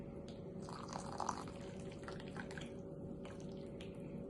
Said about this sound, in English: boil 2 cups of water, and then you're going to put 1 cup of water into each color of Jello